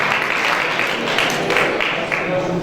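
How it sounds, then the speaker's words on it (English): A crowd in Jerusalem applauds Knesset member Shuli Moalem, a steady rush of many hands clapping at moderate distance, with possible faint voices mixed in. "Let's hear a round of applause."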